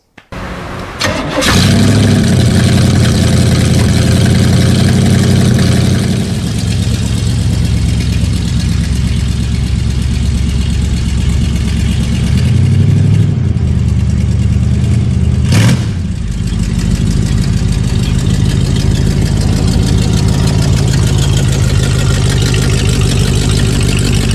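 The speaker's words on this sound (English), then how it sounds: "This one had a conventional 427 V8, and it was a counter-rotating motor." A counter-rotating 427 V8 in the mid-engine Chevrolet Astro II concept car cranks and catches with a sharp roar, settles into a loud, steady idle, then gives a brief blip and another quick burst before idling on, close and alone.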